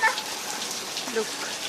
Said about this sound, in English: Raining in Burke.